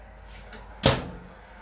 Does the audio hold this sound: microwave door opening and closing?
yes